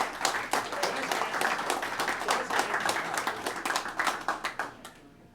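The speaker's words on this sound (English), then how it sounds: "Good round of applause for Michael and his team." Dense, sustained applause from a banquet audience at a golf outing dinner, loud hand claps filling the room before fading out at the end.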